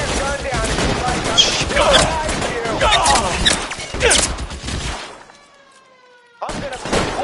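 Rapid gunfire from a PS4 shooter game, dense bursts of shots filling the first five seconds, a brief near-silent gap with a faint tone, then the firing resumes, loud and close.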